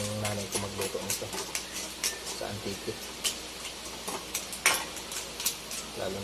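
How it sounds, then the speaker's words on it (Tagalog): Clams sautéed with mushrooms and moringa leaves simmer softly in a pan, a low bubbling sizzle broken by sharp clinks and scrapes of a utensil against the pan, with a voice speaking now and then. "Hayaan na po natin siyang kumulo ng bago para maluto po yung malunggay."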